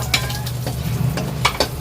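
Ginger sizzles in hot oil in a pan for escabeche sauce, a steady close frying hiss broken by the scrape and clink of a stirring utensil.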